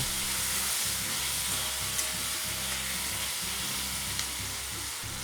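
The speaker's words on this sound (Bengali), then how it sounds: "এখন এগুলোকে আমি একসাথে ভালো করে কষিয়ে নেব।" Tomato, red chili and soy sauces frying together for chili paneer, a dense continuous sizzle with a low rhythmic stirring scrape and occasional light clicks underneath.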